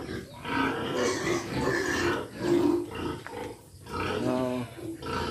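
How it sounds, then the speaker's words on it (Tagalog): Farm pigs grunt and squeal in bursts close by, mixed with someone talking over the animals throughout. "Mga alagang baboy, oh. Dami alagang baboy dito,"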